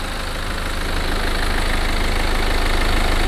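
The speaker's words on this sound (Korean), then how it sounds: "엔진 소리도 일정하고 괜찮습니다." A BMW 520d diesel engine idles steadily in a used car's engine bay, a constant close, loud mechanical drone with no talking.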